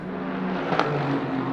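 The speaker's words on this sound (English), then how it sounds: "Oh, that's the Rickaby car and" Race car circuit racing on track during a three-hour endurance race, a steady engine drone at a distance with a brief pass rising near the middle.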